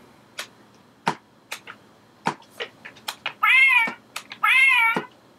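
An Exploding Kittens card game box gives two drawn-out electronic meows among scattered sharp clicks and taps of handling, close and fairly loud, with no talking.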